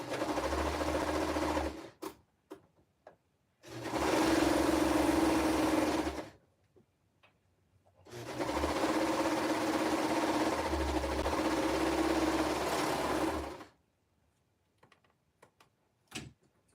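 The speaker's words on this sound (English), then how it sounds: "we're just going to sew down these seams of our cuffs" A sewing machine stitches down the seams of baby jogger cuffs in two long, steady whirring runs with short bursts and clicks between them, close and alone without talk.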